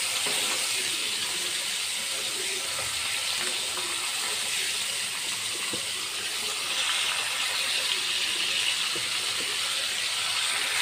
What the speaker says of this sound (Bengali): তো এই যে তেলটা গরম হবার পর মাছগুলো দিয়ে দিচ্ছি, মাছগুলো এখন আমি ভেজে নিব।